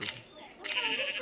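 In the Minecraft video game, a sheep gives two wavering, nasal bleats in quick succession, the second longer and fuller, heard close and clear.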